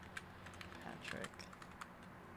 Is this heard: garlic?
no